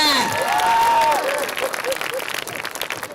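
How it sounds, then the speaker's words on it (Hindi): An audience at a Hindi poetry show claps and cheers for a comic poet, a loud burst of applause with some voices and whoops on top, thinning slightly toward the end. "ताली बजाओ"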